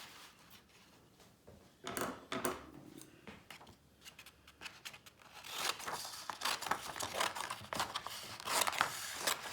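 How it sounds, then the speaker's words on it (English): Scissors cut marbled paper being prepared to restore a duct-taped 1661 quarter-leather book: a quiet series of sharp snips and crisp paper crinkles, irregular and close, growing busier toward the end. "What I'm going to do is cut the paper with scissors"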